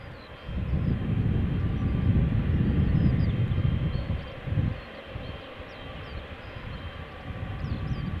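Garuda Indonesia Boeing 777-300 airliner engines rumble steadily at Schiphol's Polderbaan, a broad low roar that swells, then eases slightly, from a moderate distance with no talk.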